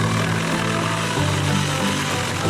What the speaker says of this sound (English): That's Tim's big chainsaw.